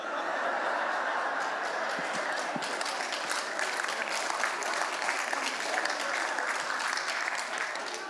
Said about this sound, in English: I ain't sure why you're clapping.